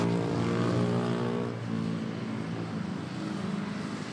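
A Philippine Airlines Airbus A320 arriving from Katiklan at Manila airport, heard as a steady, fairly loud engine roar with tonal hum layered through it, easing slightly partway through and continuing without talk.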